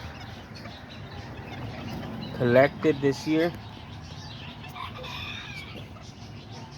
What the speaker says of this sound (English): These are all my little hens right here.